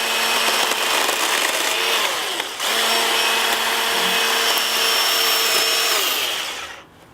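A cordless lithium-ion battery chainsaw with chain guard runs loud and steady while cutting small branches, its high motor whine holding nearly seven seconds with one brief dip before winding down at the end.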